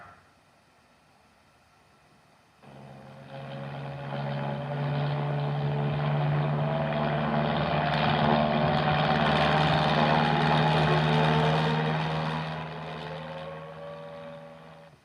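An aircraft engine swells in after a quiet start, holding a loud droning tone with propeller-like harmonics before fading as it flies away.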